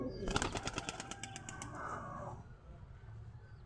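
Pigeons kept by a breeder coo and stir nearby, with a brief flutter of wings at the start, quiet and close in a calm setting.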